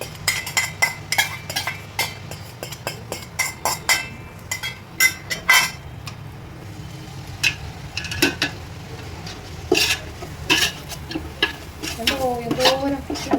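Ginger garlic paste ground with green chilli, curry leaves, mint and coriander being stirred in a pan, a low steady sizzle under repeated clinks and scrapes of a spoon against metal, close and moderately loud.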